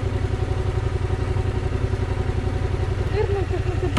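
A motorcycle engine idles nearby at a campsite with a steady, even low throb, while people talk over it.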